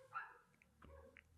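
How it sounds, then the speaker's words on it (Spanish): A dog barks faintly at a distance with a few short yips, quiet under a low background. "los perros tienen que ladrar"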